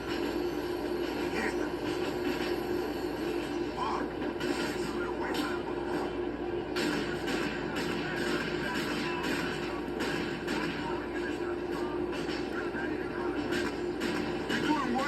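Subway train ride in New York City, a steady rumble of wheels and car noise running throughout at constant loudness, with people talking over it.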